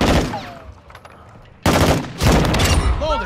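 Stun grenade blast amid heavy gunfire in a Call of Duty match, with loud bursts of rapid shots, a sharp sudden explosion midway and more crackling fire after it, while players shout over the action.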